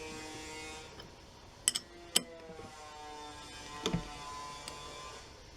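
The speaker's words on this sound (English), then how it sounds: "If I turn the rotor a full 360 degrees round back again" Honda C90 engine rotor turned slowly by hand through a full revolution, giving a few soft mechanical clicks and a faint creak over quiet background, with two sharper ticks close together early on.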